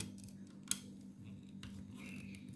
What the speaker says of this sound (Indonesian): ini blok kita coba buka dulu ya, pakai obeng yang lebih kecil